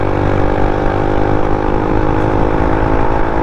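A Suzuki Burgman scooter engine runs steadily up close, holding a loud, even, buzzing drone with no change in pitch.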